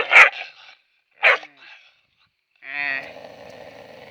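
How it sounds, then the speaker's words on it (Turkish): A dog lets out two sharp barks with a pause between them, then a longer, drawn-out whining bark, close by in a quiet setting. "İşte bu da bizim köpeği."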